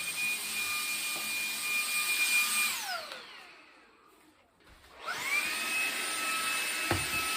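A Shark handheld vacuum cleaning a carpet whines loudly and steadily, then its motor pitch drops as it powers down into near silence before spinning back up to a steady high whine, with a soft knock near the end.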